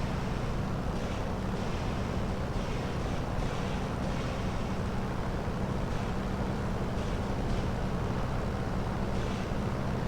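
Steady, dense engine rumble from a vehicle in War Thunder, a low continuous drone with hissing wash over it and no break across the whole stretch.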